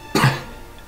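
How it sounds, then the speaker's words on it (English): A single sharp cough from a nearby person during a tabletop role-playing game session, one short burst that fades quickly into a quiet room. "Does he cough as well?"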